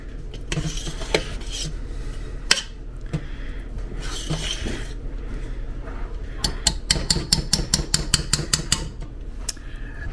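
A utensil scrapes and clinks against a pot while marshmallows and condensed milk are stirred together over high stovetop heat, giving irregular metallic taps, then a fast run of sharp knocks near the end.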